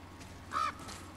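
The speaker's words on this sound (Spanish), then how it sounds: "Hemos escuchado al cuervo" A crow caws once in the God of War video game, a single short call standing out over steady ambient game background.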